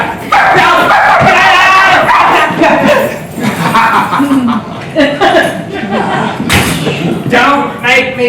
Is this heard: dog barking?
yes